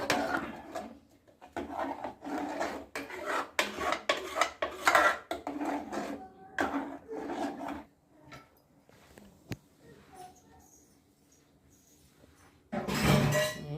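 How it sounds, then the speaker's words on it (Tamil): A spoon stirs spinach gravy in a metal pot on a stove with rapid, rhythmic scraping and clinking strokes close by, slowing to sparse taps before a final burst of stirring. "இப்போ நல்லா இதை போட்டு அடுப்பில் வச்சு நல்லா ஒரு சுற்றிக்கோங்க"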